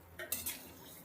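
A spoon scrapes and knocks three quick times against a pot of light ridge gourd curry being stirred, soft and close, followed by a quiet hiss.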